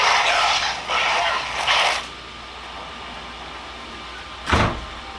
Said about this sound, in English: That was me opening and closing the door